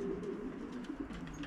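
A racing pigeon coos in soft, repeated low murmurs, close by and steady throughout the short moment, with faint background noise and no voices.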